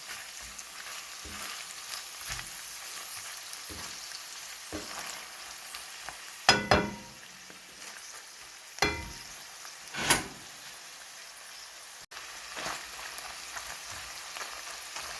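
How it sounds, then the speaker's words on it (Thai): Bamboo shoots stir-fried in oil in a pan, a soft steady sizzle with a few louder scraping stirs of the spatula around the middle, no voices. "ก็จะผัดอยู่อย่างนี้สักพักหนึ่งนะคะ จนหน่อไม้ของเข้ากับน้ำมันดีแล้วนะคะ"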